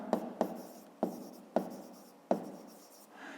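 A pen writing out a simple math exercise on paper, five or six crisp strokes and taps spaced irregularly across a few seconds, close and clear with nothing else audible.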